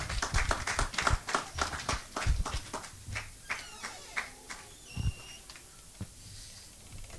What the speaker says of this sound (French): Acclamons pour le droit